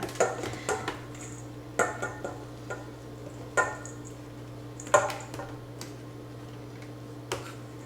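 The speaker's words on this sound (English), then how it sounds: "we are going to do the same fine shredding with the carrot and the onion" Knife finely shredding carrot and onion on a board, scattered crisp chopping taps at an irregular pace, close and fairly quiet over a steady low hum.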